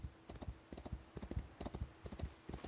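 Rhythmic clip-clop of horse hooves in the video game Foundation, in quick bursts, fairly faint with short pauses between groups of steps.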